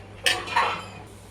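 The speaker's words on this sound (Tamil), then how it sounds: "இப்போ கடுகு சேர்த்துக்கிறேன்." Mustard seeds dropped into hot oil in a pan while tempering a Tamil lentil curry, giving two quick clattering bursts followed by a brief fading sizzle, close and moderately loud with no talk.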